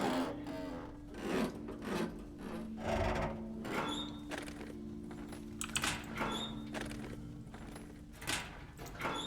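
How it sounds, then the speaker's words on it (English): A hacksaw cutting scrap metal in The Long Dark rasps in repeated uneven back-and-forth strokes, fairly quiet, with occasional clinks and a low hum underneath. "There's our hacksaw."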